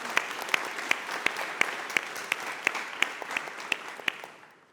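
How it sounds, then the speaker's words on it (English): A conference audience at a construction industry event breaks into steady applause, with a few sharp, distinct claps standing out above the dense clapping before it fades away at the end. "So one extra round of applause."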